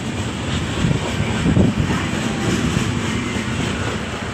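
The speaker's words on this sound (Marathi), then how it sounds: "रेल्वे सुटलेली आहे." A train pulling out of a railway station, a continuous rumbling roar that swells briefly midway and then holds steady, with no voices.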